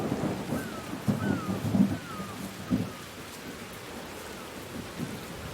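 A thunderstorm rages in the adventure game Whispers of a Machine, with steady heavy rain and rolling thunder rumbling in several swells before easing into a softer downpour, with no talk over it.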